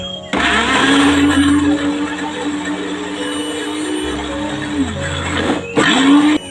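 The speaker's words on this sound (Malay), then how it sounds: "kesemua bahan-bahan tu tadi saya nak kisar sehingga lumat" A blender motor grinds loudly and steadily, blending petai, chili paste ingredients and water, its pitch dipping briefly near the end before spinning back up.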